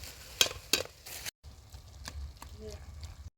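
Egg and honagone greens are stir-fried over a low flame, with a spatula scraping the pan in a few quick strokes over a soft sizzle while someone talks.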